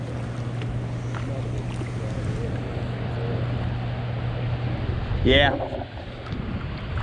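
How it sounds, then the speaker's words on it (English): Wind blows steadily across a microphone while kayaking on the Caney river, a broad rushing roar throughout, with a brief spoken word near the end. "There's a lot of wind everywhere."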